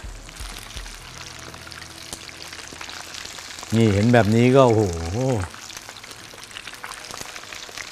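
Thai-style spicy chicken wings deep fry in hot oil, a steady close crackle and sizzle that carries on throughout, with someone briefly talking over it midway.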